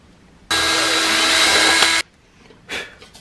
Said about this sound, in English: Go ahead and get them drilled out for our switches.